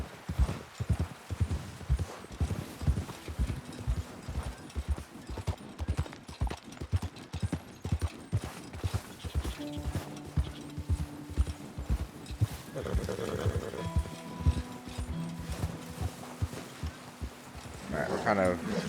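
Hooves of Roach, a horse in the video game Red Dead Redemption 2, beat in a fast, steady clip-clop gallop throughout, with brief game tones and someone talking over it.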